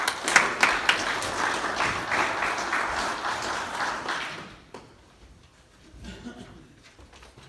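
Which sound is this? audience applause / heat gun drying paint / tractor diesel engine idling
audience applause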